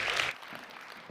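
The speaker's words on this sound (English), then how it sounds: "Can we give her a big round of applause?" A brief burst of applause from a church congregation, dense clapping for about a third of a second before dropping to a quiet, low room tail.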